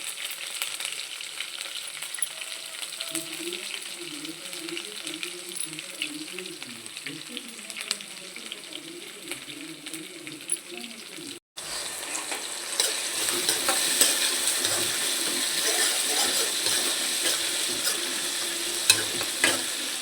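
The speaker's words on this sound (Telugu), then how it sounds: "ఇప్పుడు ఆనియన్స్ వేస్తున్నానండి ఉల్లిపాయ ముక్కలు" Onion pieces frying in hot oil with mustard seeds, cumin and urad dal for semiya upma, a steady close sizzle that grows louder and brighter partway through, with occasional stirring scrapes and no talk.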